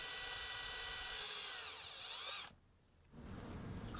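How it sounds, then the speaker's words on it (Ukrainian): A small drill with a 1 mm bit whines steadily at high pitch for a couple of seconds while boring holes in brass, drops off briefly, then spins up again, close and clear. "Міліметровим свердлом робимо отвори."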